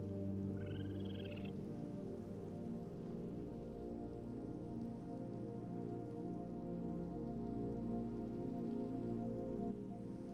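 Steady rain falls in a video game, a dense even hiss of drops on surfaces that continues throughout at a low level, with a faint frog-like call early on and no speech.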